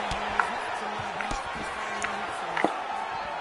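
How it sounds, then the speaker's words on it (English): A crowd at a UFC fight between Israel Adesanya and Marvin Vettori gives off a distant, low, continuous roar, with a few sharp thumps rising above it. "You hear this crowd just eating out of his hand"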